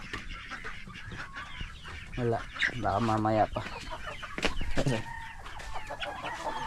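Chickens cluck and squawk close by, a few loud harmonic calls standing out, while a person speaks briefly amid the farmyard noise.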